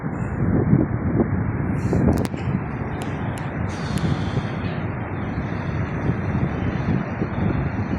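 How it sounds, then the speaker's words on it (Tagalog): Strong wind buffets the microphone in a continuous roaring rumble, steady and loud throughout with no voices. "Lakas ang hangin"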